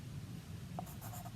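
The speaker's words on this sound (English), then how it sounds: "I'm going to take my pencil." A pencil scratches across paper in a brief, quiet burst of close strokes, heard alone against a soft room hum.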